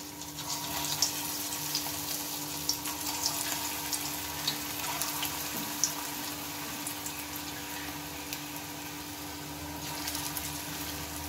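Spiny gourd (kakrol) pakora batter fries in hot oil with a faint, steady sizzle and scattered small crackles throughout, with no talking.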